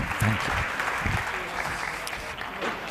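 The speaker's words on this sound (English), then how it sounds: "Big round of applause to Joe." A conference audience at a wine tourism event gives a round of applause, with steady dense clapping and some voices and low murmurs mixed in.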